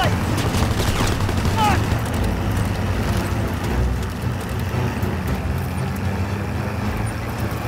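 Dense, rapid gunfire and engine roar during a jeep chase in Call of Duty: WWII, continuous loud shots layered over a driving vehicle, with shouted voices mixed in.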